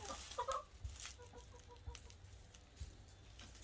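Chickens cluck in a winterized chicken run, with several short, fairly faint calls scattered across the stretch and a few louder squawks near the start.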